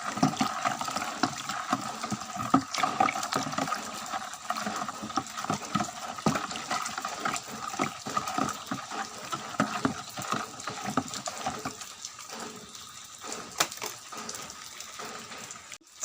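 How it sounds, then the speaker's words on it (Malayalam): Water pours into a homemade natural fertilizer mix for outdoor plants, five cups in all, as a steady, splashy gush that stirs and sloshes at close range, fading slightly toward the end. "നമ്മൾ 5 കപ്പ് വെള്ളം ഒഴിച്ചു കൊടുത്തു"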